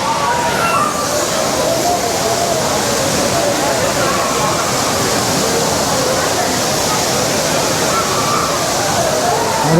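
Aintharuvi waterfall at Courtallam roars loudly and steadily nearby, a thick rushing wash of falling water with a faint murmur of bathing crowds mixed in.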